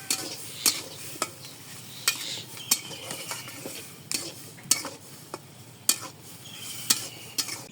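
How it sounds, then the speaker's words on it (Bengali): Potatoes are stirred into fried chili paste in a pan, with repeated scraping and clinking strokes of a spoon at irregular intervals over a steady low sizzle, close and clear with no talking. "ওখানে আমি আলু দিয়ে নাড়াচাড়া দিয়ে দিই আলু দিয়ে দিছি নাড়াচাড়া দিয়ে দিই"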